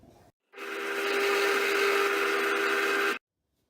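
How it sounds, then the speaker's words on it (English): A steady drill press bores into wood for about two and a half seconds, a loud continuous whir with a grinding edge, starting and stopping abruptly. "every time I drill into my wood"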